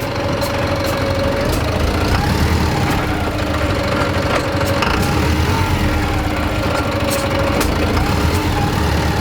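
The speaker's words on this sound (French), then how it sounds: "Écoute l'embrayage." Heavy truck rolling through fields with a loud, continuous rumbling engine and rattling vibration, the clutch in use, recorded up close from inside the cab with faint periodic squeaks over the drone.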